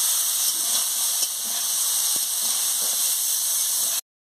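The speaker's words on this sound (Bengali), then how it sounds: "আমি ভালো করে একটু ভেজে নিচ্ছি সবজিগুলোকে" Vegetables fry in a pan, giving a loud, steady hiss of sizzling that runs evenly for a few seconds with faint knocks underneath before cutting off abruptly.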